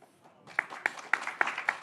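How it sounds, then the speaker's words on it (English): Small audience giving a round of applause to two speakers at the close of a conference session on marine nature-based solutions financing: faint, sparse clapping that builds into a brief, light ripple of hands. "let's give a round of applause for Andrew and Peter"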